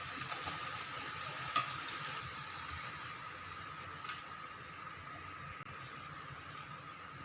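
Bottle gourd vada fritters fry in hot oil with a soft, steady sizzle and crackle. It stays faint and even throughout, with one brief click near the start and no talking.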